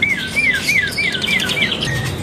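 A red-eyed drongo sings at a bird market, a clear repeated whistle of rising and falling notes sounding about six times in a steady rhythm, loud and close, with no talking.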